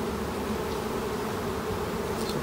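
Honey bees drone steadily around an open hive during an inspection, a dense, continuous buzzing that is loud and close with no pauses and no voices.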